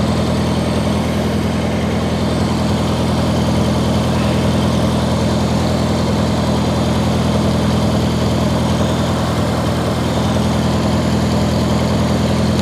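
A neglected 1953 Farmall Cub tractor engine runs at a steady, unbroken idle, a close, even low chugging drone with a constant rhythm and no voices over it.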